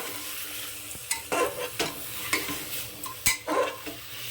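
Bottle gourd pieces sizzle in a pan as a spatula stirs them in quick, regular scraping strokes, close and clear, with occasional clinks against the metal.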